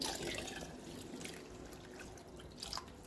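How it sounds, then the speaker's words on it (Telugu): Tamarind juice poured into a pot of mutton dalcha, a faint soft trickle and drip of liquid, quiet and close. "చింతపండు కూడా పోసేద్దాం ఇందులో."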